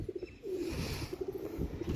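A group of pigeons gathered on the ground coos in short repeated low pulses, close and steady against a faint outdoor hum.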